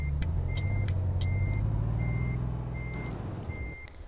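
Truck reversing alarm in a driving video game, a steady series of sharp high beeps, about ten, repeating over a loud low diesel engine rumble that fades slightly near the end.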